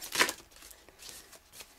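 A quick riffle of tarot cards being shuffled, one sharp burst followed by softer, scattered flicks and taps, close and fairly quiet.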